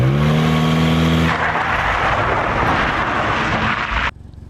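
A worn Toyota Corolla engine revs hard as a launch control start is attempted, a loud rising drone that breaks into a rough, noisy roar before stopping suddenly.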